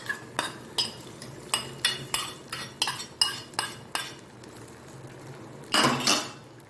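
A metal spoon clanks against a pot while sweet pongal is stirred, about a dozen sharp rhythmic knocks in a row, then a short pause and a louder scraping clatter near the end.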